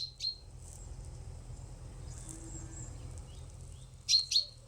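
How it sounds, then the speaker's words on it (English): A chaffinch gives short, sharp pink calls at a quiet coastal birding spot: one near call at the start, a softer one midway, then a louder close pair near the end, over a low steady background hum. "My first bird of the day can be heard calling the familiar pink note of a chaffinch."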